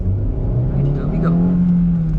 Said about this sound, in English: let's do one quick launch before we end this video